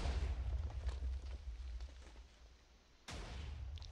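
Cannon fire during a Minecraft airship battle: a rumbling barrage of low booms and bursts fills the first stretch, fades briefly, then a fresh sharp blast erupts and the din resumes, with no voices.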